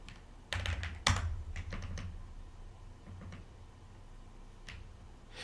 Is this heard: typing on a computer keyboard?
yes